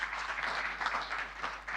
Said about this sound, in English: Let's give him a round of applause, ladies and gentlemen.